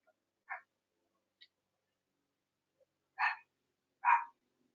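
Several dogs bark at a distance in short separate bursts: a couple of faint yips first, then two louder barks close together near the end, with silence between them.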